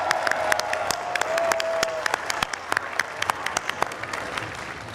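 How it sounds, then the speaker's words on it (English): Festival audience at the World Culture Festival applauding, dense clapping at first that thins into scattered individual claps, with crowd noise and a brief voice underneath. "Can we hear you with a big round of applause if that's the case?"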